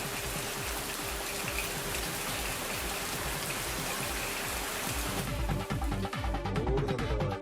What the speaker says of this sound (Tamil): கிருஷ்ணகிரி மாவட்டத்தின் பல்வேறு பகுதிகளிலும் கனமழை பெய்தது